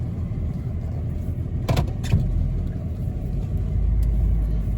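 A V8 car driving out along a property driveway toward a gate: a steady low engine rumble with a couple of brief knocks.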